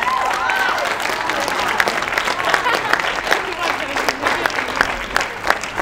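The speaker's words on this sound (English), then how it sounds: "let's give a round of applause to Talia" An audience breaks into a round of applause, a sustained burst of many hands clapping with scattered voices and cheers underneath, holding steady before thinning slightly toward the end.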